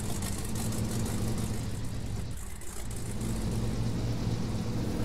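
A truck engine in the off-road driving game SnowRunner drones steadily throughout, a dense low rumble with only a brief dip in the middle and no voices.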